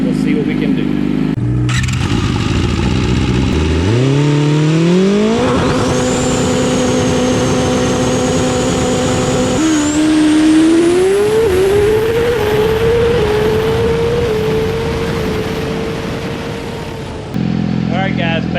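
A Yamaha R6 sport bike on a dyno roars through a baseline pull, its engine climbing and holding high revs in loud, rising sweeps with brief throttle hesitation, close and dominant.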